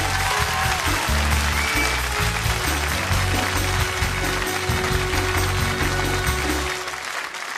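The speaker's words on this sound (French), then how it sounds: "Applaudissements encore une fois s'il vous plaît." Sustained applause from a large television studio audience, steady and loud throughout, thinning slightly at the very end.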